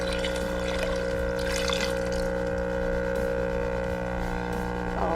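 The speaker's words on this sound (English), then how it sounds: "we're going to also pour that in our water" A cup of liquid is poured into warm water in a foot detox tub, a continuous splashing pour over a steady electrical hum.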